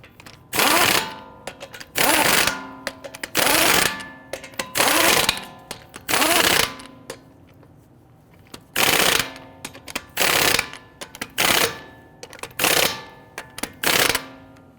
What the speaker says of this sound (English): We want to go ahead and get all of our lug nuts started by hand,